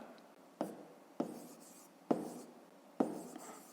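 Pen or chalk writing by hand during a fifth-grade math lesson on rounding decimals, four distinct sharp taps and short scratchy strokes spaced evenly, quiet and close with no talk.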